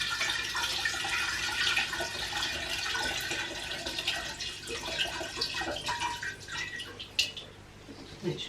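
Cold boiled water is poured into a container, a close trickling and splashing stream with drips and small gurgles that vary in strength, with a faint clunk near the end.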